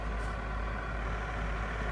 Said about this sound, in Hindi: we are reducing the speed of the spindle to show the maximum feed rate